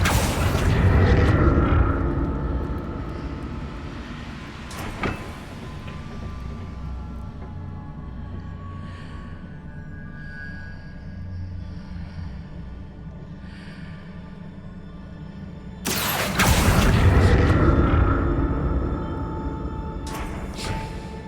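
Confringo blasting spell in Hogwarts Legacy, two loud booming bursts, one at the start and another near the end, each decaying into a rumbling tail, with quieter magical ambience between them.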